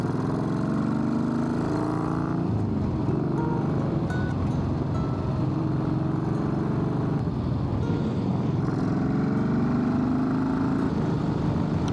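Motorcycle riding off through San Diego streets, a continuous close engine drone with shifting pitch as it accelerates, heavy wind rumble throughout, no voices.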